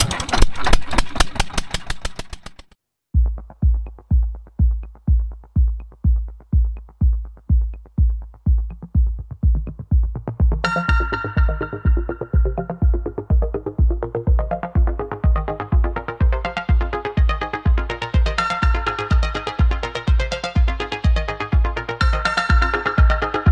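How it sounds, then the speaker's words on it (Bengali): A fishing boat's outboard-style motor cranks with rapid pulls, then settles into a loud, steady chugging idle that grows busier and rougher as it runs, with no one talking. "মেশিন ডুঙি স্টার্ট দিয়ে দিচ্ছে"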